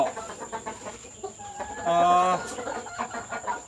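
Farm chickens clucking in a small flock, a busy mix of short calls throughout with one louder, drawn-out call near the middle, close by and moderately loud.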